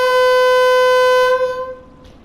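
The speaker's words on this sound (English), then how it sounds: "we're going to blast our horn before we start up" Horn blast from a BR class 31 diesel locomotive, a single loud sustained multi-tone blare lasting over a second before it cuts off and fades.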